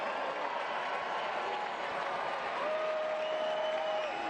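A stadium crowd at a Tampa Bay Rowdies versus Memphis 901 FC soccer match applauds and cheers in a continuous, even roar, with whistles rising over it and no break.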